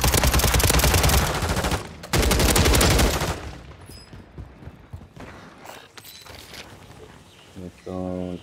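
Rapid automatic gunfire in a multiplayer shooter video game, loud continuous bursts in the first three seconds, with talking and a later short burst near the end.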